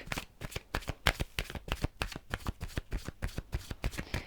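Romance Angel oracle cards shuffle in rapid, close riffling bursts, a dense run of crisp papery flicks with no talking.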